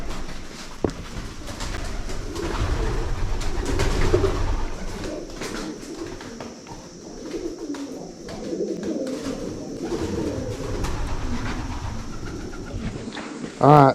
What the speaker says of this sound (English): Those birds in there making that noise made it spooky.